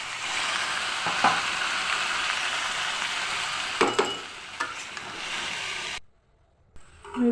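Vegetables frying in a spice masala for a Bengali dinner curry, giving a steady loud sizzle with a few stirring scrapes before the sound suddenly cuts out near the end, no voices.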